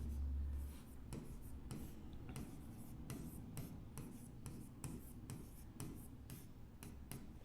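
Someone writes by hand while working a Class 11 permutation and combination maths problem, leaving soft scratchy strokes and taps that come in irregular bursts. The sound is close and quiet, with no speech.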